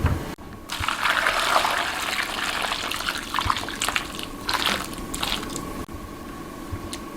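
Hot salt water is poured and splashes over cucumbers in a container, with wet squishy sloshing and a few knocks, close and fairly loud, no talking.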